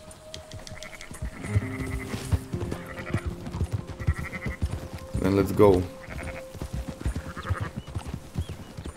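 Sheep and goats bleat in Red Dead Redemption 2, several wavering calls rising over game ambience and soft hoof clops, the loudest bleat near the middle, while someone speaks briefly.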